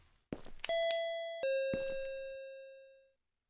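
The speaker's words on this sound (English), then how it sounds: "I don't remember seeing a doorbell on my door." A doorbell rings at night with a two-tone ding-dong chime, loud and clear against silence, the second tone fading slowly before a sudden cutoff.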